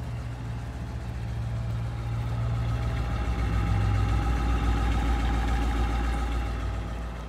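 A 1962 Ford Galaxie 500 with a 390 V8 and automatic transmission idles close by, a steady low rumble holding an even rhythm with a slight swell midway, alone with no talk.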